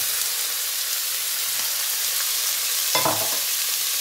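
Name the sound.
stir-frying peppers in a hot wok with oil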